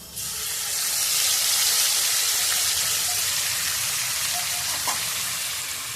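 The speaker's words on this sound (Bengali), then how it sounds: "এবার এই তেলের মধ্যে মশলা বাটাটা দিয়ে দেবো।" Ground spice paste hits hot oil after chicken pieces are lifted out of the pan, giving a loud, steady broadband sizzle that swells quickly and holds evenly, with a small pop near the end.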